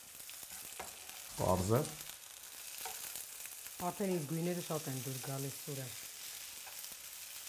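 Dried plums sizzle in a frying pan with red pepper added, a soft steady crackle running throughout beneath two people talking close by.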